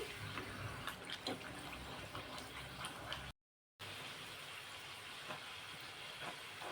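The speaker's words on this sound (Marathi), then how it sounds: "अशा पद्धतीने ह्या संपूर्ण पुऱ्या तळून घेते मी" Puris deep-fry in hot oil, giving a soft, steady hiss and bubbling that runs quietly throughout, with a brief dropout midway.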